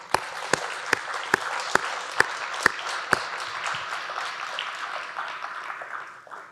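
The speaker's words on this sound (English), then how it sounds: "I think they deserve a round of applause" Audience at a business talk in Trinidad and Tobago breaking into applause, with a few sharp, evenly spaced claps standing out early over a steady, moderately loud crowd clapping that gradually fades.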